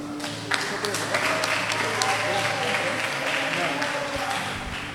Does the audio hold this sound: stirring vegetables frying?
no